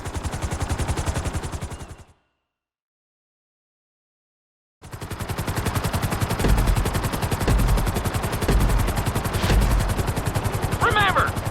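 Helicopter in the video game Grand Theft Auto 5 during a flight school course, heard as a loud, steady rapid rotor chop that cuts out into silence for a few seconds and then resumes, thumping on with occasional sharper bangs.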